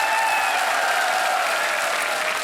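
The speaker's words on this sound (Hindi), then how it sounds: "तालियां बज जाए इनके लिए" Sustained studio audience applause on a TV quiz show, a dense steady wash of clapping that stays loud and even throughout with no voices over it.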